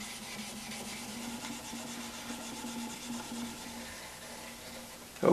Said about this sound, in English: I'm going to lightly hit the peg head and the neck with 2000 grit as well